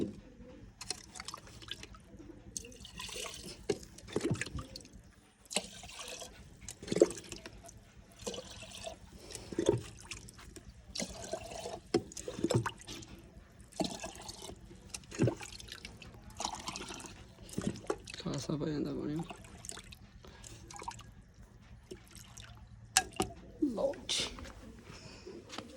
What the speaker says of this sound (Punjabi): ਪਾਣੀ ਵੀ ਭਰ ਲਿਆ